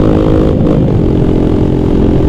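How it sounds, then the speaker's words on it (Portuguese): A loud, rough Honda XR200R motorcycle engine with an engine noise fault drones steadily at close range, a dense continuous rumble with no voices. "olha o barulheiro que tá fazendo o motor"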